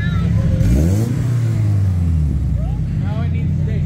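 A Honda VTEC engine revs hard, its pitch sweeping up and back down in a loud, close roar, with people talking over it.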